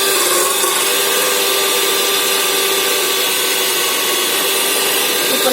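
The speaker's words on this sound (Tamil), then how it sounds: "இப்போ நம்ம பீட்டரை வச்சு கொஞ்சம் பீட் பண்ணிக்கலாம்" An electric beater whips egg whites in a bowl, producing a constant bright whirring buzz that stays loud and even throughout, with no voices.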